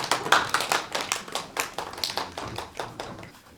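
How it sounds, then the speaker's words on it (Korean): Audience applause welcomes a parent speaker at a family self-advocacy event for people with disabilities in Hwaseong, a steady patter of hand claps fading gradually over a few seconds with no talking. "박수로 모시겠습니다"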